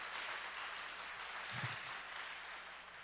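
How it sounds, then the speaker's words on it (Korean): Congregation applause during a Korean Sunday church service, a steady, diffuse wash of clapping from a crowd that holds evenly throughout, fairly quiet and distant-sounding with no talking over it. "너무 수고하시는 우리 모든 스태프들 위해서 박수 한번 할까요?"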